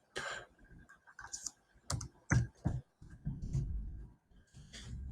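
Quick bursts of computer keyboard typing, irregular clusters of close, crisp key clicks with short pauses between them, entering a command in AutoCAD, with no talking.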